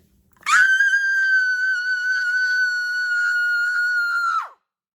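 A single long, piercing high-pitched scream held steadily for about four seconds, loud and close, then cut off into silence.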